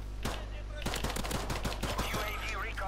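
Rapid game gunfire from Call of Duty: Modern Warfare Remastered, reported to be pistol fire. A close burst of sharp shots starts, pauses, then resumes as a fast run of repeated cracks over steady background game noise.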